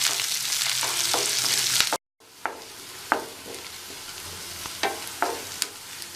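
A pan sizzles steadily as curry leaves and cumin sauté, broken by a brief silent gap, then scattered sharp pops and crackles over the hiss.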